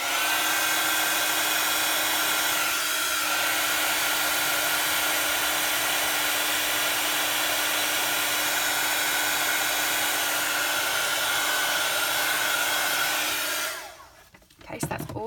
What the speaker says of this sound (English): I'm just going to come back in with my heat tool again.